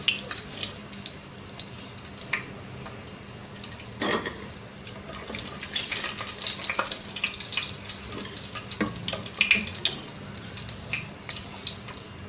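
About 10 to 12 cashews frying in hot oil for a Mughlai Eid dish: a steady, moderately close crackle and sizzle runs throughout, with a few brief clinks and knocks, and no talking.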